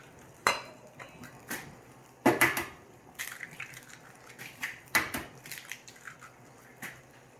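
Eggs cracked on a bowl edge and then whisked for French toast mix in a brewery kitchen, with a few sharp cracking knocks followed by lighter, irregular clinks and taps, fairly quiet and close.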